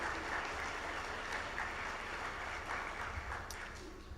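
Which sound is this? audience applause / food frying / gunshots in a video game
audience applause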